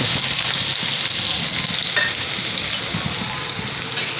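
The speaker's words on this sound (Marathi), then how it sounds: "आता त्याच्यामध्ये मी कांदा घालते आहे." Chopped onion frying in hot oil with cumin seeds, a dense, steady close sizzle and crackle throughout, with no voices.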